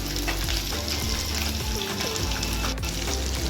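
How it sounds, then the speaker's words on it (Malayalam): Chana dal, ginger, green chili and onion being sautéed in a pan, a loud continuous sizzle and frying hiss with intermittent stirring scrapes, close and steady throughout, no talk. "സവോള എല്ലാം കൂടി നന്നായിട്ട് വഴറ്റി കൊടുക്കുക."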